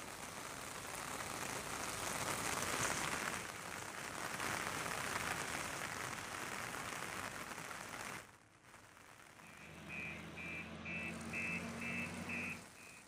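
Rain falls steadily in Karnaprayag during landslides along the Badrinath National Highway, making a soft, constant hiss for about eight seconds. It then drops away and a few faint beeps follow.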